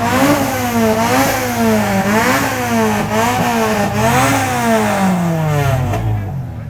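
Loud, close exhaust revving from a modified car competing in a loudest-exhaust contest at an outdoor motor show, with repeated rising and falling throttle blips that hold high for most of the stretch before easing off.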